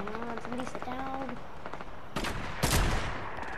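Rapid automatic weapon fire in Fortnite, a quick burst of repeated shots followed by louder, sharper cracks and blasts toward the end, dense and close.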